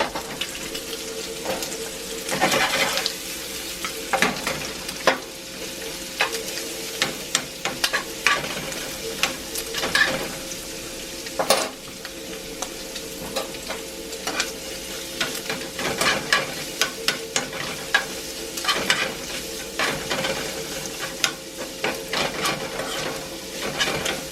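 Bacon frying in a cast iron pan on a gas burner, a continuous crackling sizzle with frequent sharp pops and occasional scraping, close and moderately loud, with no talking.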